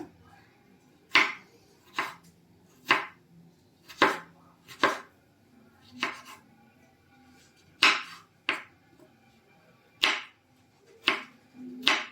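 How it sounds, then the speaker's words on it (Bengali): A knife chops a tomato on a cutting board in sharp, evenly spaced thuds, about a dozen cuts at a steady unhurried pace, close and clear with no talking. "টমেটোটা কেটে দেয় একবারে"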